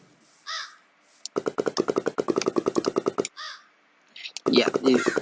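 Crows from the Alex's Mobs mod for Minecraft 1.16.5 give a couple of short, harsh caws, then a rapid run of clipped, rhythmic hits or flaps, more caws and a burst of flurried noise. A voice speaks briefly alongside.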